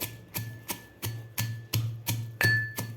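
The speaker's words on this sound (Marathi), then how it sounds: "आता आपल्याला थोडंसं अगोदर कुटून घ्यायचं आहे" Roasted peanuts, green chilli, garlic and cumin are pounded in a stone mortar with a pestle for raw mango chutney. There are about eight evenly spaced, sharp knocks, close and clear, with no talk.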